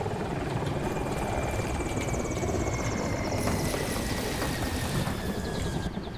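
Russian Ka-52 attack helicopter in the video game Battlefield 2042, a loud, steady, close rotor-and-turbine drone with dense rhythmic blade chop running continuously and unbroken throughout, with no voices present.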